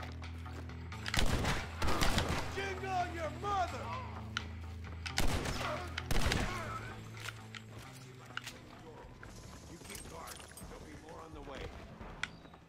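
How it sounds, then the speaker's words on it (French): Pump shotgun blasts ring out during a gunfight in the video game Red Dead Redemption, several loud sharp reports spaced a few seconds apart, mixed with horse hooves and other game sounds while a voice talks. "Fusil à pompe."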